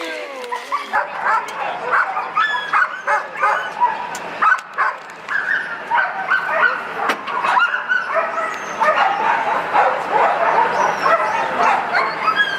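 A pack of sled dogs at a mushing camp in Skagway, Alaska keeps up a noisy chorus of high yips, barks and whining whimpers, loud and continuous throughout.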